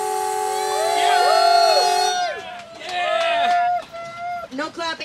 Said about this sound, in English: All right, I'm going to sound the horn